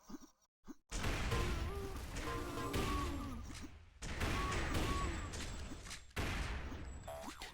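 Rifle gunfire in a Counter-Strike match, with several dense bursts of rapid shots separated by short pauses, loud and close.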